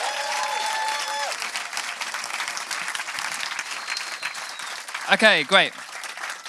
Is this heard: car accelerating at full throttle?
no